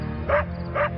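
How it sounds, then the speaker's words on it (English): A dog gives two close, loud barks about half a second apart over a low steady background hum. "Albert's dog won't stop barking"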